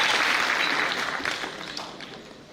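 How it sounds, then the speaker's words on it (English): Group clapping from an audience at an education and leadership congress, broadband and steady at first, then gradually thinning and fading over about two and a half seconds. "let's clap for ourselves then"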